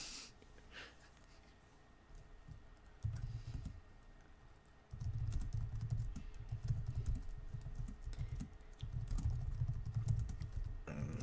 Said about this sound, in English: I should read what I'm typing